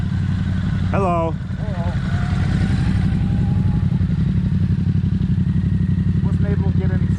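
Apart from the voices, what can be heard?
Ducati motorcycle engine running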